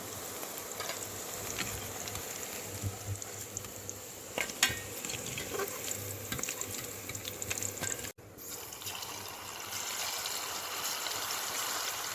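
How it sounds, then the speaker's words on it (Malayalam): Fish pieces deep-fry in oil for a spicy fish pickle, a dense steady hiss and crackle close by, briefly cut off near the end before resuming. "അപ്പോൾ അവിടെ ആദ്യത്തെ ബാച്ച് മീൻ വറുത്ത് വന്നിട്ടുണ്ട്."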